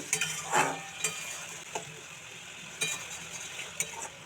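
Vegetarian Kashmiri potato dum curry bubbling gently in a pan, soft sizzling with occasional spoon scrapes and clinks against the pan, faint and close.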